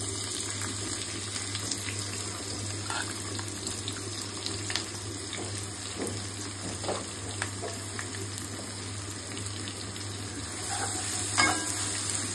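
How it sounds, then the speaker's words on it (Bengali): Onion frying in oil in a wok for a tomato rohu fish bhuna, a steady soft sizzle running throughout with occasional faint scrapes and a slightly louder burst near the end. "পেঁয়াজটা ভাজবে"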